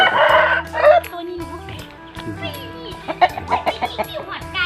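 A fighting cock crows at a Thai farm, one loud drawn-out call near the start, then clucks and bird sounds follow with a low steady hum underneath.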